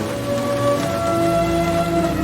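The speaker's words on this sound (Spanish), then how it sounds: "Está lloviendo a cántaros." Heavy rain pours down in a steady, loud, unbroken wash of noise, with no talking.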